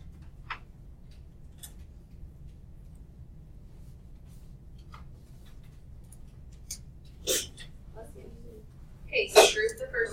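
A quiet classroom during an algebra lesson with faint ticking, then a sudden sharp sneeze near the end, close and loud against the hush.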